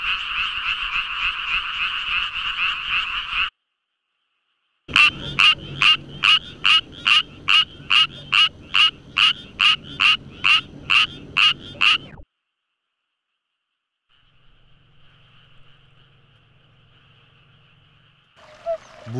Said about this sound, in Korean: 우리 고유종 수원 청개구리는 이렇게 소리 덕에 새로운 종으로 인정받은 것이다.